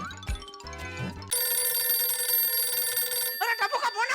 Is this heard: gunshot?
no